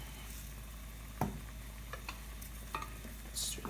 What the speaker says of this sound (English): Stir that some more.